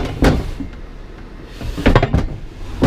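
A drawer in an Alpha Wolf RV is pulled open with a few sharp knocks and rattles, then slides and thuds again near the end, close to the microphone.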